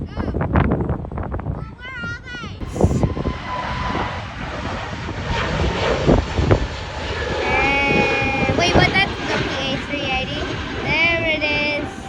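A UPS Boeing 767 freighter jet roaring past at an airport, a loud sustained engine rumble swelling and holding, with people talking excitedly and high chirping sounds over the top.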